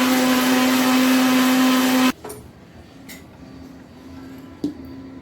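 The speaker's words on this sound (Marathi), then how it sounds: "हे बघा सगळं मी मिक्सरात फिरवून घेतो" An electric mixer grinder whirs loudly as it grinds fresh coriander and chili into a spice paste for a dried small fish curry, a steady high motor whine that cuts off after two seconds, followed by faint clatter and light knocks.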